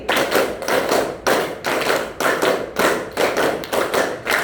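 A class claps in a counted rhythmic pattern in a teaching session, bursts of claps landing in regular groups with short gaps between them, close and fairly loud, no voices heard.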